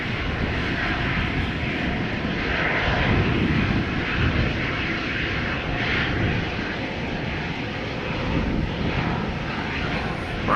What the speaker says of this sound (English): KLM Flight 1343, Embraer 190, destination Billund